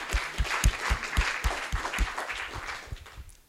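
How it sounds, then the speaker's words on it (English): A conference audience applauds after a talk, with distinct clustered claps and thumps at a moderate rhythm that gradually thin and die away. "Can I get a round of applause for it, please?"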